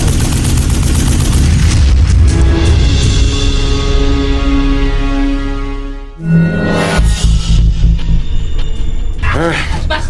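Loud, continuous gunfire in a dramatic production as people fight giant snakes, heavy booms and rumble filling the scene while voices shout over it, with a brief dip midway before the barrage resumes.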